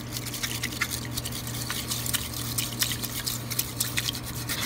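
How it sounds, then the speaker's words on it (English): Chocolate matcha being whisked in a bowl at home, a steady fast scratchy swishing with faint liquid splashes, close and continuous with no talking. "Now we're gonna whisk."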